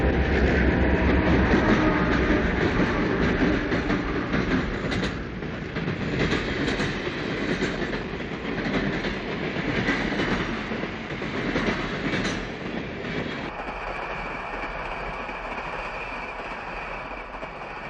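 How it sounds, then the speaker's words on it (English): A diesel passenger train, the City of New Orleans, pulls out of Kankakee, Illinois behind a polished E9A locomotive; a steady broad rumble and rolling rail noise carry on loud throughout, easing slightly near the end. "Departing Kankakee, Illinois, behind a glistening E9A locomotive is train number 1,"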